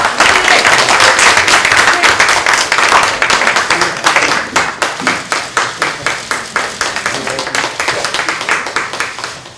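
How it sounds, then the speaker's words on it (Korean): A crowd applauds loudly and steadily as candidate Park Young-sun is sent off from a party leadership meeting. The clapping is dense at first, then thins into a few distinct, rhythmic claps near the end. "박수로 보내드리도록 하겠습니다."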